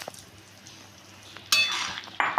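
Fried pointed gourd being sautéed in a pan for a Bengali posto dish, with a quiet start giving way to a louder burst of sizzling and stirring scrapes midway, then another loud stir near the end.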